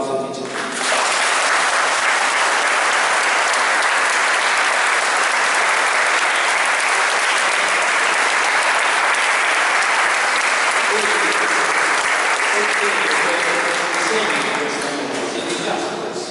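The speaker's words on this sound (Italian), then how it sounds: "accogliamo questa famiglia con un applauso di gioia" Wedding guests applaud inside a cathedral church in Ruvo di Puglia, a loud, sustained burst of clapping that rings through the large space for about fifteen seconds before tapering off.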